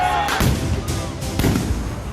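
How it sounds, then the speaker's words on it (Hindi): Firecrackers and explosions go off in the streets of Beirut at night during crowded unrest, a rapid series of sharp cracks and booming thuds over a constant noisy crowd background. "लगातार बम पटाखों की आवाज आती रही।"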